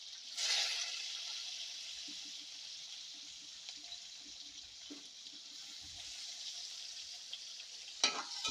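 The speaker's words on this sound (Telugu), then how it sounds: "ఉల్లిపాయ ముక్కలు ఎర్రగా వేపుకుందాం" Onion pieces hiss and sizzle steadily in hot oil, with a few clinks of a utensil stirring in the pan.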